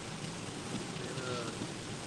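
Steady heavy rain hisses on a storm chaser's car while it drives, a dense continuous wash of noise with no pauses.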